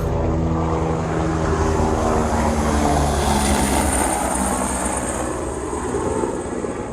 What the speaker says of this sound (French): On va laisser passer l'hélico.